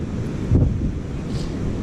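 Wind buffets a microphone on a beach under stormy clouds, a steady low rumble with one stronger gust near the start.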